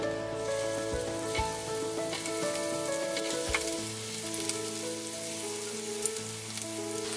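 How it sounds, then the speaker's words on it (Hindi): Aloo tikki, potato patties, shallow frying in oil over a low flame, a steady close sizzle with fine crackling pops scattered throughout, alongside a faint background hum. "हम ये टिक्कीज को लो फ्लेम में फ्राई करेंगे"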